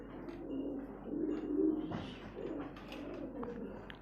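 Pigeons on a small pigeon farm, including a black-and-white pair with a puffed throat, coo in low repeated rolls close by, over a steady rustle of background noise.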